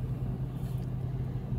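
Steady low rumble of idling cars queued in a line to turn during rain, a constant muffled engine drone with no distinct events, heard from inside a stopped car.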